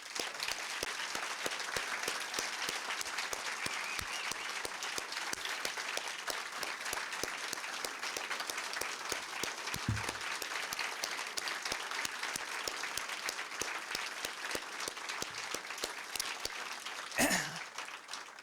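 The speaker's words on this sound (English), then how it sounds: "Let's give our inductees one big round of applause" At a school Wall of Distinction induction ceremony, the audience gives the inductees a long round of applause, with crisp individual claps packed into a steady roar and a brief louder burst near the end.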